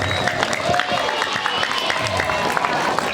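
An audience claps through a religious gathering, dense steady applause with crowd noise and talk mixed in.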